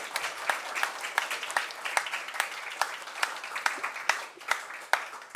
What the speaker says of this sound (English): Can we have a clap, please, for everyone?